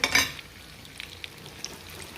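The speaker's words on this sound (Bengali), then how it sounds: "আবারও নতুন তেল দিয়ে শ্রিমগুলো ভাজতেছি" Shrimp fry in fresh oil with a soft continuous sizzle after an opening clatter, followed by a few light clicks of a utensil against the pan, close and without speech.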